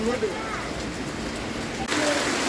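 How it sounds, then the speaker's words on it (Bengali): Heavy rain pours down outdoors on a street where water has flooded, a steady broadband wash of falling water that grows slightly louder near the end, with brief voice-like sounds over it. "প্রচন্ড বৃষ্টি হচ্ছে"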